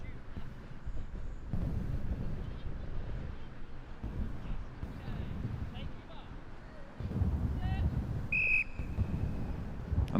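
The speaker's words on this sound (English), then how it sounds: "She's going for her trusty whistle." A starting whistle gives a short sharp blast near the end of a windy outdoor school sports day race, over steady wind rumble and talk.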